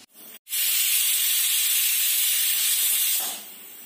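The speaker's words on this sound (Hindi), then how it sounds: "देखिए, एक सीटी आ गई है।" A pressure cooker on a gas flame, cooking urad dal khichdi, lets out a loud, steady whistle of escaping steam that starts abruptly, holds as a sharp hiss, then eases off near the end.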